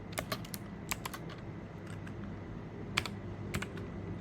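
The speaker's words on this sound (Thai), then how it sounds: "โดยการพิมพ์คำสั่งขึ้นมา touch" Keys clatter on a MacBook keyboard while a terminal command is typed during a Homebrew setup on an M1 Mac, quick irregular taps in small bursts over a quiet room hum, close and fairly soft.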